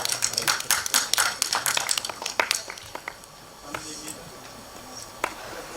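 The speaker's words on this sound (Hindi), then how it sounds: "जोरदार तालियां" Applause from an audience at a film trailer launch event: dense, sharp hand claps that thin out and fade into a few scattered claps, with faint talk underneath.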